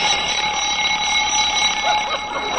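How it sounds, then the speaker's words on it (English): A steady, loud alarm clock bell rings continuously and alone, a close, unbroken metallic jangle held throughout, set in an old-time radio comedy scene. "I must have hit the button on my alarm clock."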